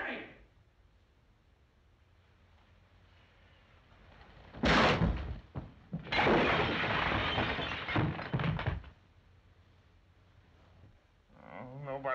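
Banging and thumping on a door in a 1937 movie, several loud bursts of knocks and rattles in the middle, with people talking around it.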